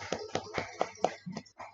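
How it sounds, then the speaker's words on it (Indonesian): A classroom of students clapping for a classmate, a short run of sharp, separate hand claps at close range, with no talking. "Tepuk tangan buat Julia."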